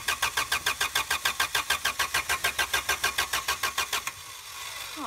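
A Honda Accord ute that has been rusting in the woods cranks steadily without firing. Rapid, even starter pulses run for about four seconds and then stop, leaving a faint hiss.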